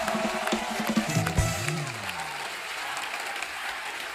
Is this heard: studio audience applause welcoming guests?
yes